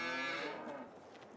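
Cows mooing in Farming Simulator 22, a loud, drawn-out bovine low with rich harmonics that sounds close and stands alone, then fades into a softer tail.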